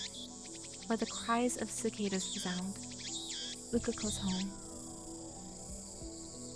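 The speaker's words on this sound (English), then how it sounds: "where the cries of cicadas resound" Cicadas drone in a continuous high-pitched chorus at a quiet shrine in the game Steins;Gate, staying steady while a person speaks over part of it and then carrying on alone.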